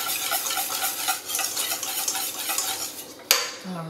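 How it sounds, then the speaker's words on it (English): A whisk beats cheddar torta batter in a bowl, a steady fast scraping and clattering against the sides that runs throughout, ending in a sharp clink near the end. "So whisk until very smooth."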